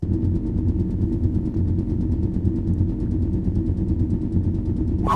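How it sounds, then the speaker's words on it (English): A steady, loud video game car engine drone from an Unreal Engine 5 audio system, with a low rumbling pulse throughout, ending in a brief burst of noise at the very end. "It's essentially an entire car engine audio system and it sounds something like this."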